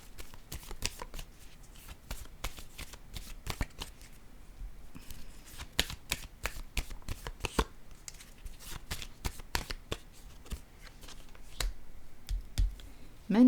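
Playing cards are shuffled and drawn in a long run of crisp, rapid riffles and snaps, close and fairly quiet over a soft room background.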